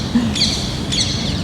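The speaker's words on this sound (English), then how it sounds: "That's a parrot. Listen." A parrot gives two bright, high chirping calls about half a second apart, fairly close, over low background noise.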